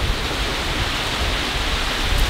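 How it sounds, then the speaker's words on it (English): Sideways rain from a sudden storm that came on fast, a dense, steady wash of roaring noise with no breaks, loud and close, with no voices. "Sweet, we got the sideways rain."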